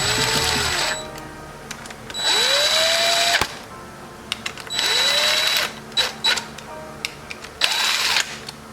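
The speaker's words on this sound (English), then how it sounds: "Now I'm just gonna run them all down with an impact." An impact wrench drives 8mm bolts into a CR125 two-stroke engine cover, sounding as several loud, separate bursts of high-pitched whirring with rapid rattling hammer impacts, each rising in pitch and separated by short pauses of quieter clicks.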